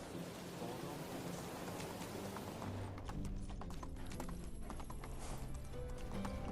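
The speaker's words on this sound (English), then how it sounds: "I absolutely love how fast the horse is" Hooves of a fast horse in the medieval game Medieval Dynasty pound in quick, steady clip-clop beats over a constant hiss of rain-like ambience, no talk.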